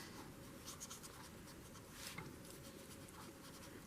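A pencil scribbles on journal paper, making a faint, close scratching that runs in quick repeated strokes of shading. The sound is quiet and steady with no talking.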